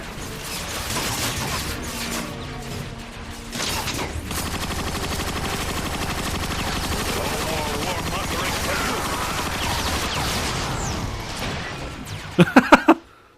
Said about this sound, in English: I'm just gonna use the big gun